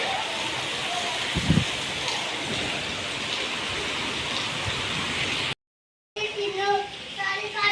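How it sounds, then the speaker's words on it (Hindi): Heavy rain pours down in a dense, constant hiss with scattered drips and splashes, a voice faintly heard, then a brief cut and voices. "मेरे यहाँ तो बहुत खतरनाक वाली बारिश हो रही है।"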